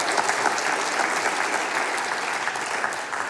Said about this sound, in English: Let's give them a round of applause for feeding us.